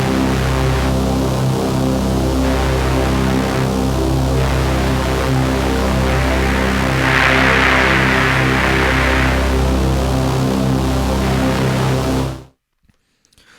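A white noise stab synth patch in Reason, played without EQ, sounds loud and sustained with a steady hiss over droning tones, swelling slightly midway before cutting off abruptly near the end.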